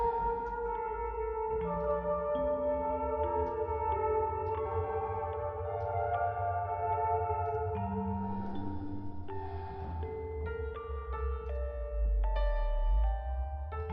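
Inside the video game Fatal Frame, a piano picks out a slow melody from a score, single notes ringing and sustaining one after another over a low ambient hum, with no voices.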